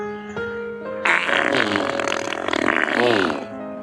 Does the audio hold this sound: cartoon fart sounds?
yes